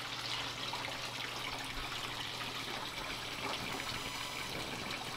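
Water flows steadily through a pond's bowl filter, spillway and skimmer, a continuous close trickling and splashing wash with no voices.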